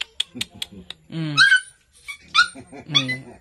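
A large dog gives a series of short barks and whimpering growls up close, mixed with people talking nearby.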